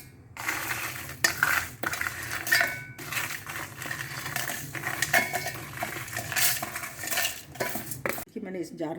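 Roasted spices tip and scrape into a metal mixer grinder jar, a close, busy clatter of rattling seeds and clinking steel with small gaps, ending in a brief softer rustle.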